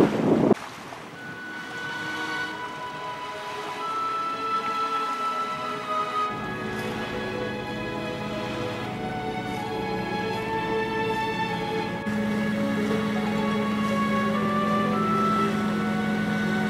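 ETAP 32S sailboat motoring into a headwind at about 4.5 knots off the Croatian coast, with a steady engine drone and hull rumble beneath continuous wind noise and wave wash, loud and close, with no talk.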